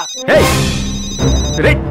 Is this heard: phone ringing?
yes